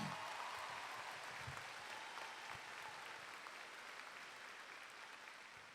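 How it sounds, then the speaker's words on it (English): A crowd applauds the Naaman Forest High School class of 2021 at their graduation ceremony, a steady, fairly distant wash of clapping that holds evenly throughout and fades slightly toward the end. "Give them another round of applause."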